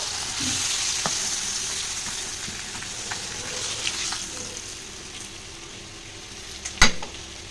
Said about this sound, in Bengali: দেখো মাছটা কিন্তু ভাজা হয়ে গেছে আমি তুলে নেব